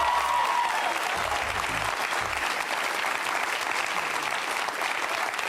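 A studio audience at an atheist versus Christian televised debate applauds steadily and loudly as a guest is welcomed, a dense continuous clapping throughout.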